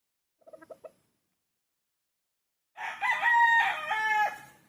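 A Kelso gamefowl rooster gives a short burst of clucks, then after a pause a loud, close, drawn-out crow that rises and breaks before fading.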